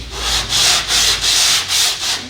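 Car body filler on a Scion tC being sanded with a straight sanding block covered in glued-on roll sandpaper, about five long, steady rasping strokes in even rhythm, close and loud with no talking.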